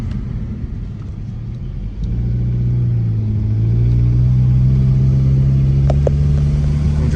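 A Nissan Sentra driving after front brake pad replacement, its engine a low steady rumble from inside the car that swells slightly as it pulls away and then holds a constant hum.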